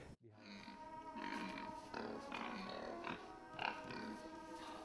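Expensive pigs on a Danish farm grunting in several short, close bursts spread across the clip, with some background noise and a voice faintly present.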